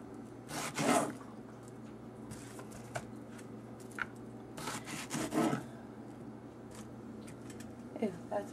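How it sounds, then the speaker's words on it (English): A knife slices through strawberries in a kitchen with short, soft rubbing cuts in scattered bursts over a quiet background hum. "Cut your strawberries."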